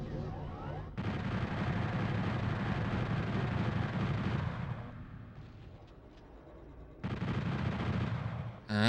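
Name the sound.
chain gun firing in the video game Final Doom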